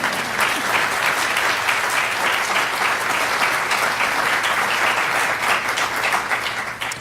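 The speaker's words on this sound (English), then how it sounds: "Feel free to give that a round of applause." Audience applause at a State Department LGBTQI+ foreign policy gathering, a thick, even wash of many hands clapping that holds steady for several seconds before easing slightly at the end.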